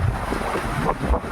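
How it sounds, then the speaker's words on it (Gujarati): Strong wind blows outdoors, a brief gusty rumble buffeting the microphone with low surging roars. "પવન છે દુનિયાનો."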